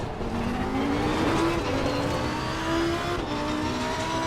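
A Lamborghini race car in the Assetto Corsa Competizione racing game on PS4 accelerates hard, its engine droning and revving steadily through gear changes with tire noise, loud and continuous throughout.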